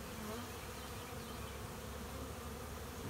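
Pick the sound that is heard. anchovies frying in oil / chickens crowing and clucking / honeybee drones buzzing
honeybee drones buzzing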